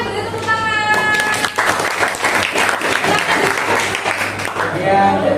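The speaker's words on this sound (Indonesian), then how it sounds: "Oke, beri tepuk tangan." A small group at an academic coaching session breaks into applause, a lively clatter of hands with overlapping voices and chatter running through it and a faint tonal hum underneath.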